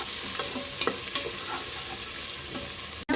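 Onions and biryani spices sizzle steadily in hot oil, with soft scraping and stirring strokes over the continuous frying hiss, close up.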